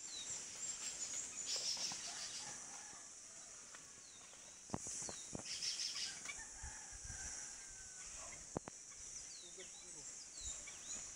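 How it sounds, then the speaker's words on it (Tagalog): Chickens and other birds call around a rural garden plot in Laguna, with a rooster-like cluck and scattered chirps heard at a distance over steady insect hiss, alongside a couple of sharp knocks and quiet voices. "May ibon guys."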